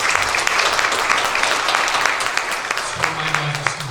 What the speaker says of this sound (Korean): 우리 다 같이 박수로 환영해 주십시오